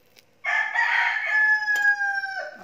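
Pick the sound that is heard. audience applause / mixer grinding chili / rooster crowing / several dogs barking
rooster crowing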